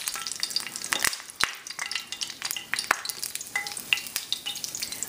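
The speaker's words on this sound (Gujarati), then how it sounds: "આમાં પહેલાં હું નાખીશ લીંબો ને જો મારું તેલ ફાઇન ગરમ છે" Fresh curry leaves (limdo) crackle and spit in hot oil as a Gujarati dish starts cooking, a busy, close sizzle with sharp pops scattered throughout and no talking.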